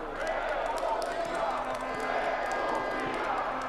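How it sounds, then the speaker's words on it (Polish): Audience applause and cheering at a Polish march rally as a speaker is introduced, a steady dense wash of clapping and crowd noise throughout, with voices mixed in. "Wielkie brawa."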